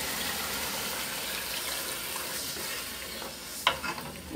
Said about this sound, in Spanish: Ahora vamos a echar el ajo para nuestro arroz.